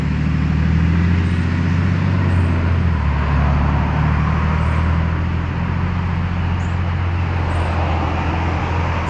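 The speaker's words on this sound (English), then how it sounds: "There's a bit of road noise." Road noise from cars passing along a road, a loud, continuous low rumble and hiss of tires and engines that swells and fades slightly, with no talking.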